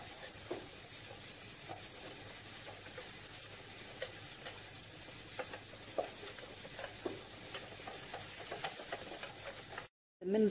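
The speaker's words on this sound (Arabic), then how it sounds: "وكنضيفو عليه النشا اولا لا مايزينا، كنخلطو كلشي مزيان" Eggs, sugar and starch are whisked together in a bowl for crème pâtissière, giving a faint, steady stirring with light scattered clicks of the whisk. The sound breaks off briefly near the end.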